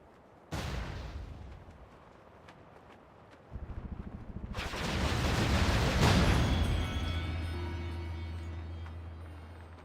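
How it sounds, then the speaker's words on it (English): Heavy booming explosions in the video game Jade Empire, one sudden blast followed by a second surge that rumbles and swells into a long, loud roaring tail. "Lots of explosions."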